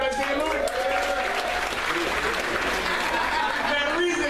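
Comedy club audience applauding during a stand-up set, a sustained patter of clapping mixed with crowd murmur and some raised voices that rises and then eases off.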